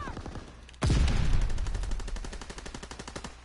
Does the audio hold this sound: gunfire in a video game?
yes